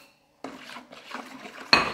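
A spoon scraping and clinking in a pot while a tablespoon of salt is added to hot water for homemade soap, two short rubbing bursts and a sharper clink at the end, close and fairly quiet.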